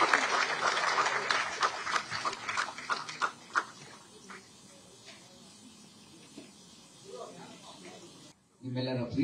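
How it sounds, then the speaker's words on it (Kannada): Audience applause at the Nandi Film Awards ceremony as a singing legend is called to the stage, a dense burst of clapping that thins out after a few seconds, with faint voices underneath. "ಒಂದು ಜೋರಾದ ಚಪ್ಪಾಳೆ"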